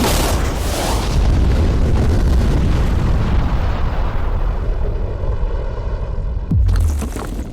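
Large bomb explosions erupt around a Lamborghini in a thunderous, sustained roar of blast and rumble, loud and close, fading briefly before a second heavy boom bursts near the end.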